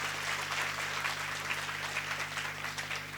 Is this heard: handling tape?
no